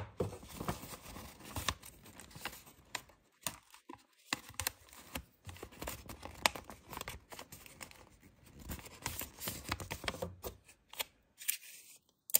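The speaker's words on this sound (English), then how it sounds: "This time I'm gonna close it with tape." Tape is pulled and pressed to seal a small paper blind bag, giving quiet, irregular crinkling, rustling and sticky tearing sounds in short bursts with brief pauses between them.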